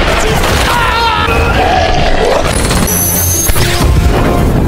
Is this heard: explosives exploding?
yes